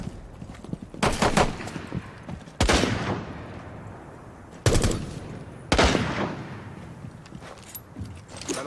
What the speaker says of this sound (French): Tir allié.